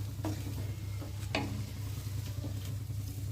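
Broccoli frying in a pan with a couple of spoons of cornflour, stirred so the spatula scrapes a few times over a steady low sizzle, with no talking.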